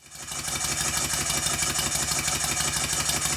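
A freshly rebuilt and lubricated steam engine runs smoothly and steadily, giving a continuous, even mechanical churn at close range with no other sounds.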